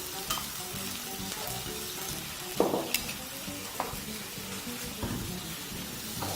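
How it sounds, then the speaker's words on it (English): Chunky chicken thigh pieces fry in a pan over very high heat, with a steady close sizzle broken by scraping stirs and occasional sharp crackles. "start by adding your chicken to the pan"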